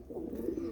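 Pigeons in a breeding flock coo in a soft, continuous low rumble, close by and unbroken for under a second.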